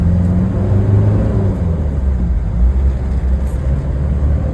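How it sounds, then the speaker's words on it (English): A 1989 Toyota Land Cruiser LJ70 engine rumbles and revs loudly up close, a deep steady roar with no talking. "Just hear the engine roar."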